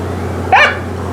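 A single sharp bark from a dog named Nika standing in an indoor doorway, loud and close, over a steady low electrical hum.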